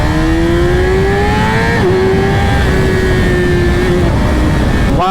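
A Ducati 959 Panigale sport motorcycle accelerating hard, its loud engine note climbing steadily with a brief dip at a gear change, then rising again as it pulls through the revs, close and continuous.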